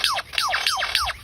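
A lyrebird mimics laser blasts: four quick, downward-sweeping electronic 'pew' chirps in a steady rhythm, close and clear against a faint background hiss.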